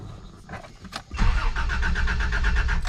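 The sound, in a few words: Toyota Land Cruiser engine starting after tune-up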